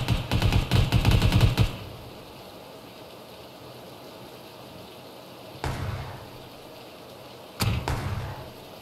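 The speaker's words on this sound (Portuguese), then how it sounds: "estão atirando em mim" Gunfire in PUBG Battlegrounds: a rapid burst of automatic shots up front, then two shorter volleys later, close and loud over quiet ambient background, with no talk.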